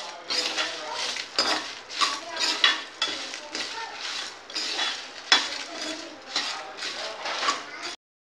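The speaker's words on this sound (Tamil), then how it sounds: "மிளகு, வத்தல், கருவேப்பிலை கொஞ்சம் நல்லா வறுத்து எடுத்துக்கணும்" Pepper, dried red chillies and curry leaves dry-roast in a pan, heard as repeated scraping and rattling strokes of a spoon against metal in an uneven rhythm, close and moderately loud, ending abruptly.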